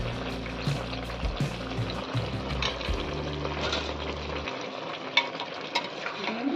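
Cabbage and katla fish head fry in oil in a pan while being stirred, a steady close sizzle with scraping stir strokes and a low hum that drops out midway.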